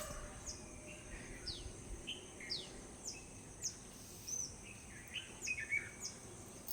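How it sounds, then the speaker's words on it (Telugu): Faint, scattered sparrow chirps at dawn against a steady low outdoor hum, short tweets popping up every second or so at a distance. "పిచుకల కిలకిల రాగాలు"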